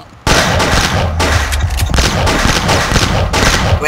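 Continuous loud gunfire from the Box Head video game, a dense fusillade of rapid shots and booms running almost unbroken after a brief quiet start.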